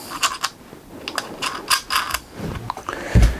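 A torque wrench lightly snugging bolts on the terminals of a DIY LiFePO4 battery built from EVE 304Ah cells, heard as a series of close, sharp metallic ratcheting clicks in short bursts, ending with a heavier clunk.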